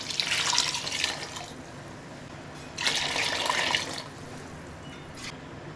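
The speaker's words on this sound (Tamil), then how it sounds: "இப்போ இதுக்குள்ளே தண்ணியை சேர்த்துக்கிறேன் நான்" Mutton stock pours into a biryani cooking pot in two bursts, a hissing splash for about a second each, separated by quiet pauses with faint trickling.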